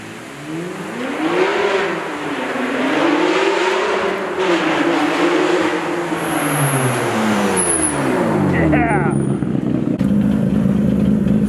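A Nissan Skyline R34 GTR accelerates hard up a hill, its engine climbing and shifting through rising pitch sweeps, loud and close, before the car recedes into the distance as people talk.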